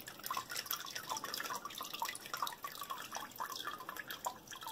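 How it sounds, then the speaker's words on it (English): Water dripping and trickling off wet paper pulp on a papermaking screen, a steady patter of close, soft drips at low volume. "Let some of that water drain off."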